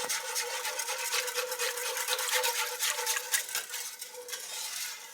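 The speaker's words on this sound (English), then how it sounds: "I'm going to switch over to my whisk" A whisk working broth in a pot for beef stroganoff, with a continuous, brisk scraping swish of metal against the pot, steady and close, with no voices.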